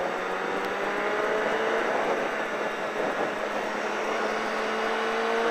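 A motorcycle on a race track accelerates out of a corner, its engine note rising steadily in pitch, a continuous nearby drone with no talking.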